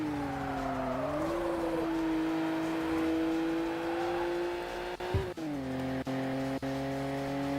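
A racing car engine from the video game Street Supremacy drones steadily at high revs, its pitch rising then holding, with a few sharp gear-shift dips near the end; loud and continuous.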